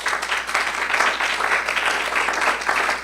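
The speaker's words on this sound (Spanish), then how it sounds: "Den un aplauso al Señor." A church congregation during a Spanish-language sermon applauds to the Lord, a sustained wash of many hands clapping at moderate loudness, steady and unbroken.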